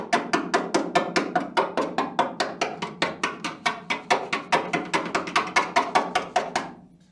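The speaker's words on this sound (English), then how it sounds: "I'm just going to use a screwdriver." A screwdriver taps rapidly on the bare inner rear wheel arch metal of a BMW E30 under restoration, about thirty sharp, evenly spaced metallic knocks close to the microphone that stop abruptly.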